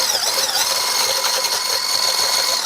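A motorized whisk or mixer running steadily through cookie batter with matcha, a loud continuous high whine with slight wavering pitch, close and without voices.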